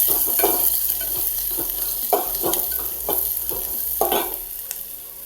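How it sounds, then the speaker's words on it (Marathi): Onion and leaves frying in hot oil for masala rice, with a spoon stirring through the pan in repeated scraping strokes over a steady close sizzle. "असं चमच्यानं लगे मिक्स करून घ्यायचं."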